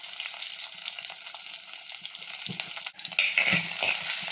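Shallots, garlic and green chillies sauté in a pan with a soft, steady sizzle, then a louder burst of stirring and frying about three seconds in.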